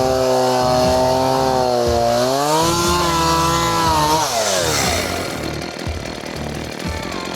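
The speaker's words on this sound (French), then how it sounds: "J'ai essayé avec l'autre tronçonneuse de la libérer juste ici." A chainsaw running loud and close while clearing wood on a large overgrown plot, its engine whining in long rising and falling revs before settling into a rougher idle.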